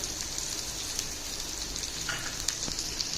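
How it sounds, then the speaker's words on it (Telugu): Chopped onions frying in a pan for aloo paratha filling, a continuous bright sizzle with a few soft stirring clicks, close and alone. "ఆ తర్వాత ఇందులో చిన్నగా కట్ చేసుకున్న ఆనియన్ ముక్కలను వేసుకోవాలి"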